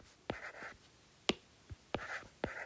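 A pen scratches out a number on a surface, with several short, crisp strokes and taps in quick succession, close and fairly quiet.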